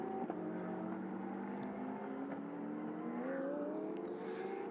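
GT race cars, a Porsche and a Ginetta, circulating at Magny-Cours, heard as a steady mid-distance engine drone with a slowly rising pitch under continuous track noise.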